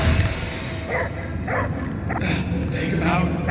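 A dog barks and yips several times in the Guardians of the Galaxy video game, with short, fairly close bursts over a busy game soundscape and speech.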